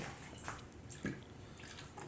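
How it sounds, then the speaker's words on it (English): Ice and water go into a pair of martini glasses to chill them, giving faint, close trickling and soft dripping with a few light clicks of ice in a quiet room. "I'm going to fill them up with ice and water just to get them chilled"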